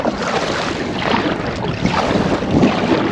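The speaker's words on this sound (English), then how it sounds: "That wind's coming in." Strong wind and choppy waves on open water around a kayak, a steady loud rush of buffeting wind noise over the microphone with lapping, splashing water throughout, no voices.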